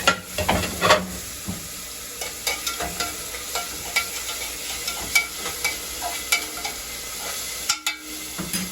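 Onion and green chilies fry for tomato rice, a steady sizzle in the pan broken by regular scraping strokes of stirring, close and moderately loud with no talking.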